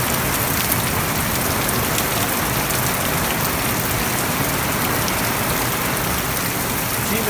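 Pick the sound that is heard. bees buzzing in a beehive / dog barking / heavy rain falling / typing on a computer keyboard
heavy rain falling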